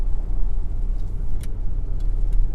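A car overtakes on a road in Thailand, a steady close engine rumble and tyre noise passing at moderate loudness with no talk.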